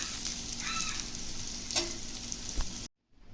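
Paneer cubes frying in hot oil for paneer matar pulao, a steady close sizzle with faint crackles and a couple of soft utensil taps, cutting to near silence at the end.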